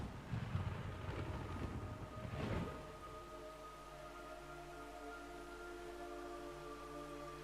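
Steady rain hiss with a low rumble in the video game Metal Gear Solid 3: Snake Eater, opening with a noisy burst of heavier sound before settling into a constant, even downpour.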